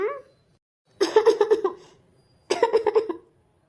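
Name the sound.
coughing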